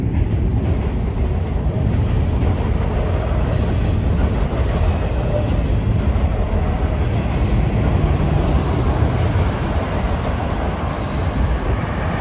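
A Toronto subway train on the line out west in Etobicoke towards Kipling rolls into the station, a loud, steady rumble of wheels and cars that fills the whole stretch with faint rail clatter and no talk.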